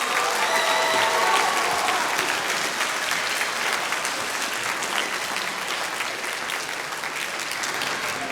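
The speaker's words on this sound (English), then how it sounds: "Give them a round of applause." Audience at a school faculty recital breaking into a long round of applause, dense clapping from a large crowd that holds steady and slowly tapers.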